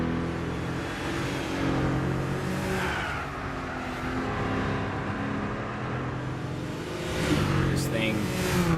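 A four-wheel-drive Nissan Skyline races in Gran Turismo 6 with its engine droning steadily and rising into revs. A brief tire squeal comes near the end, and a voice talks over the engine.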